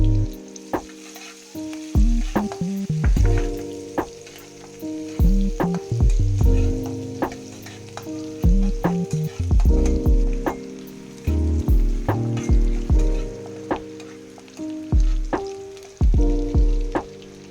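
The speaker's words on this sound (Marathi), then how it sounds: "आता कढीपत्ता तडतडला की लसूण घालून छान परतून घेऊयात." Garlic and curry leaves sizzle loudly as they are sautéed for a hadga flower vegetable dish, a steady crackling fry broken by repeated stirring scrapes and clinks of a utensil against the pan, with no talking.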